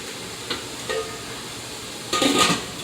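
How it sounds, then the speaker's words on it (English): A metal lid clinks onto a boiling water-bath canning pot holding jars of homemade salsa, with a few light clanks and then a louder, brief rattle of metal against metal over a steady bubbling hiss. "We're going to put the lid on and we're going to process them for 15 minutes."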